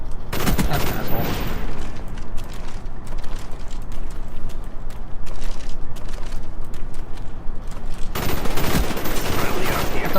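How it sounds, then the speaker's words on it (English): Gunfire from teammates in Call of Duty: Black Ops multiplayer, dense bursts of loud rapid shots packed at the start and end with steady mechanical clatter between. "And teammates are shooting me."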